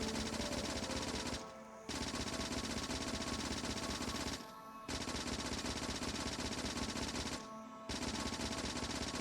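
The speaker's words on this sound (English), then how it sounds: "And then I'm just gonna keep firing at this while we whittle away the time." Sustained automatic gunfire from the player's gun in Factorio, a dense rapid stream of shots running continuously in three long bursts, each broken by a brief reload pause, loud and with no voices.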